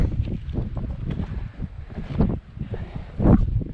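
Strong wind rushes across an open mountain hillside near Mount Washington, a steady roar with gusts and buffeting against the microphone.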